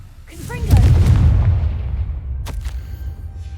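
A Confringo fire spell explodes in Hogwarts Legacy, a deep booming blast that swells and then rolls away over a few seconds, with faint speech underneath and a brief crackle near the end.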